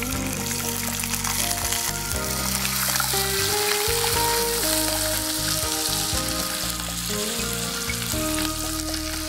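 Coconut pieces sizzle in hot oil in a pan while a Bengali mutton ghugni with capsicum is cooked, a steady loud frying hiss with stirring scrapes and no talk.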